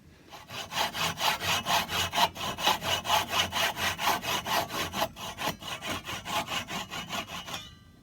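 Old wooden dowels on a Victorian chair are hand-sawn off in quick, steady back-and-forth strokes, close and crisp, with about thirty even rasping pulls and no talk.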